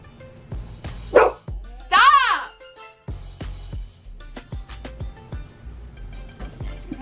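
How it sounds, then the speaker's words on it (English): A house dog lets out a few sharp, loud barks in quick succession, with a person talking over and between them indoors. "Excuse my dog. So rude."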